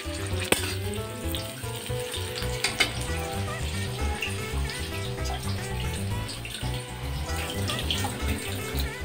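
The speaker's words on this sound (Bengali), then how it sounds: "আর এখানে আলু ভাজা হচ্ছে" Sliced potatoes fry in a pan in a home kitchen, giving a steady, close sizzle that runs throughout, with tonal background sound layered underneath.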